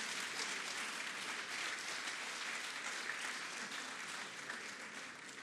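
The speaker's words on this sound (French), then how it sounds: "On applaudit encore le président Macron." An audience applauds President Macron at a ceremony in Abidjan, Côte d'Ivoire, with dense, steady clapping from a large crowd that holds an even loudness throughout.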